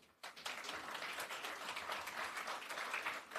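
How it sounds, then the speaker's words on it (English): A conference audience at a tech and innovation plenary applauds its panellists; a soft, continuous wash of many hands clapping starts abruptly and holds steady, heard from a distance. "another round of applause"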